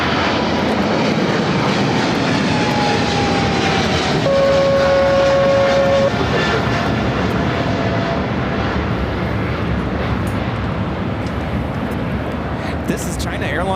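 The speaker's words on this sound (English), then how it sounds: "5137 taking off to Taipei on a 777 freighter" A China Airlines Cargo Boeing 777 freighter takes off from LAX with a loud, steady jet engine roar that holds throughout, a rising whine in the middle. Radio chatter and voices run beneath it.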